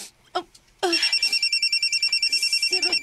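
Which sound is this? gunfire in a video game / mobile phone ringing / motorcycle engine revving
mobile phone ringing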